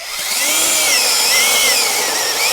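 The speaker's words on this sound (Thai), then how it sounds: "เป็นเลื่อยโซ่ของใจปูนะครับ ขนาด 6 นิ้วนะทุกคนนะ 6 นิ้ว" A Jiapu 6-inch cordless electric chainsaw runs close by, giving a loud, steady high-pitched motor whine with slight shifts in pitch and no talking.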